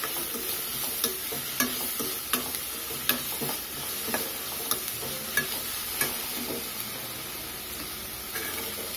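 Vegetables stir-fry in a pan for Maggi noodles, with a steady close sizzle broken by repeated sharp scrapes and taps of the spatula stirring at a loose, uneven rhythm. No one speaks.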